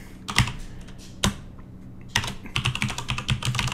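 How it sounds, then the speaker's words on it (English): Clacky mechanical keys are typed nearby: a few isolated presses, then a quick burst of rapid keystrokes. "it's a gaming keyboard, you know, mechanical, so it's pretty loud"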